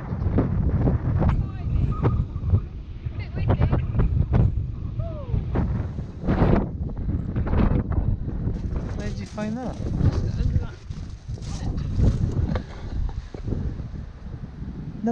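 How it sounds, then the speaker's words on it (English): Gusty wind buffets the microphone in heavy rumbling bursts at a campsite in Scotland while people talk throughout. "Too windy."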